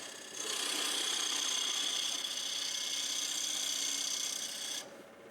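A carbide scraping tool rasps steadily against a turning wooden bowl, a loud continuous scraping that runs for several seconds before stopping abruptly near the end.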